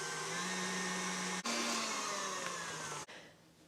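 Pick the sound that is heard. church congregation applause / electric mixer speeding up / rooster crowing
electric mixer speeding up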